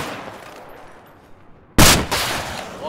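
Gunfire in the video game Battlefield 4, a sudden loud burst of shots breaking in after a quiet stretch, close and harsh, with no talking.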